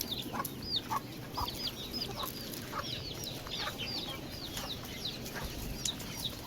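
Hens at a farm shed cluck in repeated short calls while being fed wheat, close and fairly faint over a steady rustling background, with no talk.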